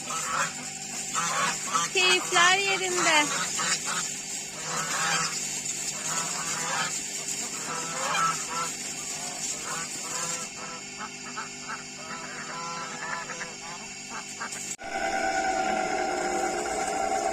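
Several ducks quack repeatedly nearby in noisy bursts in a Turkish village, with a person speaking briefly in Turkish among the birds.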